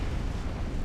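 A warship in Ultimate Admiral: Dreadnoughts blowing up from a flash fire, a dense, continuous low rumbling roar that fills the short moment loudly with no break.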